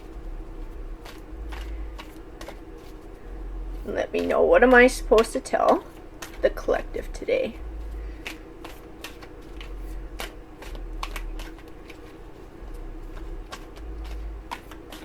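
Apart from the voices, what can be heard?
tarot cards being shuffled by hand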